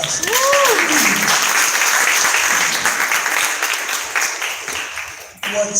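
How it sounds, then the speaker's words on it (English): An audience claps at a Harlem Arts Alliance town hall event. The applause is sustained and loud, with a brief voice cutting in early, and it tapers off toward the end. "Give yourselves another round of"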